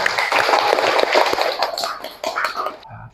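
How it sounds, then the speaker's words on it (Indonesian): A classroom group claps together for several seconds, a dense, steady patter of many hands close by that thins out and stops near the end, with faint voices mixed in. "tepuk tangan dulu untuk kita semua"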